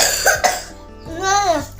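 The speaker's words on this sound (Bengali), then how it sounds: "যা কাশি হচ্ছে আমি ঠান্ডা লেগে" A person with a cold coughs in a couple of sharp, close bursts followed by a throat-clearing sound, loud and brief, with a voice nearby.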